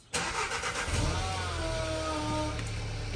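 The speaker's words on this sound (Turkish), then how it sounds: "Arkadaşlar bir cold start sizleri bekliyor." A petrol car engine cold-starts at 4 degrees in an open garage, catching almost immediately after a short crank and settling into a steady, close idle with no talking.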